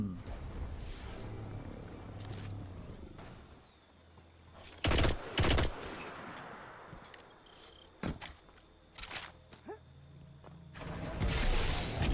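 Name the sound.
pulse rifle firing in video game Destiny 2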